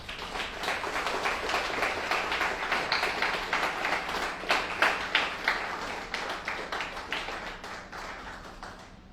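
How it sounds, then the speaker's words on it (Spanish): A congregation at a Messianic Torah-portion worship service on Parashat Shemot applauds steadily, with dense, even clapping from many hands filling the room for several seconds. "Den un aplauso al Señor"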